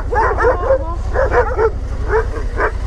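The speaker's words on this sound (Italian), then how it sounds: "I cani mi abbaiavano a fianco alla gamba." Dogs barking repeatedly in quick yappy clusters, close and loud, right beside a person, over a steady low engine-like rumble, in rural Basilicata, Italy.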